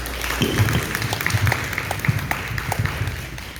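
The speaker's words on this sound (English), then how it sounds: "Let's give another round of applause." A round of applause from the audience at a community outreach centre talent show: a moderate, steady patter of many hands with occasional low thumps, fairly even in level across the short stretch.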